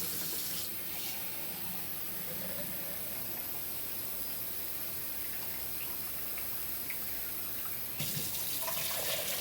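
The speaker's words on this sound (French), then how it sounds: "on va mettre 2 tasses d'eau pour bouillir ça" Water pours steadily into a cooking pot for boiling pork, a continuous splashing stream, fairly quiet and close, with a brief louder stretch near the end.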